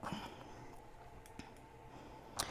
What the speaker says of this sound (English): These are my Ginger applique scissors.